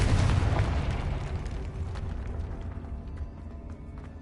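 Confringo fire-blast spell explosion in the video game Hogwarts Legacy: a loud, heavy blast with a deep rumbling boom that opens the clip, then a long, noisy decaying roar with crackling debris, no voices.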